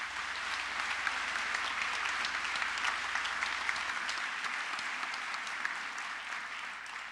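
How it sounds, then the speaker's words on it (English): An audience at a school opening day gives staff a sustained round of applause, with dense, even clapping that holds steady for several seconds and tapers slightly at the end. "So a round of applause for all of you."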